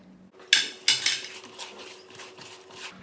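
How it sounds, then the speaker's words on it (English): Potato bread dough being mixed in a bowl, heard as a few sharp scraping clatters against the bowl followed by softer rhythmic rubbing and scraping strokes, close and moderately loud. "Keep mixing it together, mix the flour all in."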